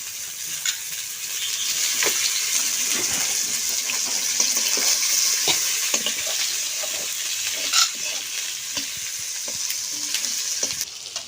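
Chopped onion and garlic frying in a pan for rice biryani, a steady, close hiss of sizzling oil with scattered scraping and stirring clicks throughout, no voices.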